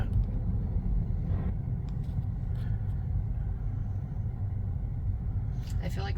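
A Tesla driving on full self-driving, a low steady road rumble inside the cabin that stays constant throughout, with people talking over it.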